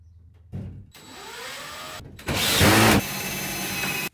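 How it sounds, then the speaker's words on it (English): A power tool drives screws into a metal frame during an RV renovation, with two bursts of whirring: a short one early and a louder, longer one midway, trailing into a steady mechanical hum. "Now they're screwing in that metal frame thingy."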